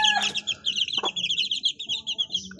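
Backyard gamefowl chicks and chickens cluck and chirp nearby in quick, busy bursts, with a few sharper squawks mixed in over a quiet background.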